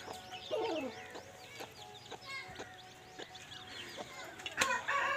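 A fighting cock is shown in an outdoor pen, giving low clucks and calls amid busy chirping from other birds close by, with brief louder squawks.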